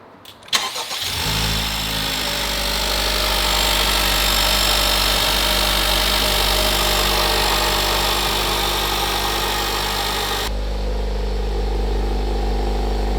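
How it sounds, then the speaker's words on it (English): A 2023 Honda Civic Type R fitted with a catless downpipe starts up close by, with a sharp crank and catch, then settles into a loud, steady idle that drops slightly in level near the end. "the first startup with the catless downpipe going down right now"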